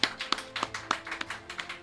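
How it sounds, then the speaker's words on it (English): Audience at a staff awards event applauding the technical team, sparse, distinct handclaps in a loose rhythm, fairly close and moderately loud. "Let's give them a round of applause"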